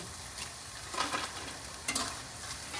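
Cauliflower and bread pakoras fry in hot oil, giving a steady close sizzle with a few louder crackling bursts as they are stirred.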